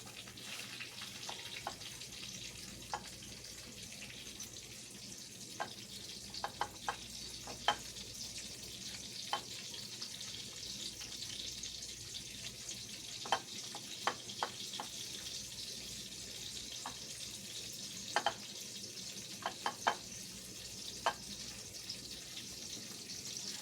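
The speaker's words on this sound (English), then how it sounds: "I'm going to shake off the excess, and I'm going to get it in my hot skillet" Flour-coated Swiss steak frying in a hot skillet, a low continuous sizzle with scattered sharp pops and crackles, fairly quiet and steady throughout with no talk.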